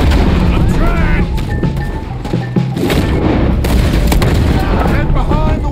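Heavy gunfire rings out in a Red Dead Redemption 2 shootout, with loud booming shots and rapid volleys throughout as voices shout over the battle.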